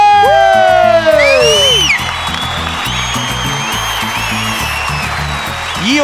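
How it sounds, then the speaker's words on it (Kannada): A live television comedy show audience breaks into loud applause mixed with cheers and whoops, with shouted voices rising over the clapping before it settles into sustained applause. "ಚಪ್ಪಾಳೆ."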